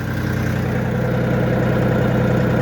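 A YTO 244 tractor's diesel engine runs at a steady idle close by, a loud, even low throb that continues throughout.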